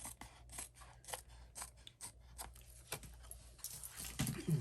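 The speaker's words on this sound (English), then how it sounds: "So I'm going to trim this on the back here, not with these scissors." Scissors trim card paper for a Stampin' Up! holiday card, producing a series of crisp close snips with uneven pauses between cuts, quiet and without speech.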